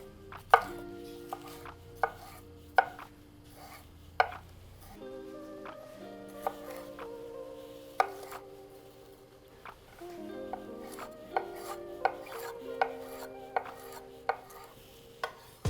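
Green, red and orange bell peppers chopped on a cutting board: crisp knife strikes in short irregular bursts, close and clear against a quiet background, with no talking.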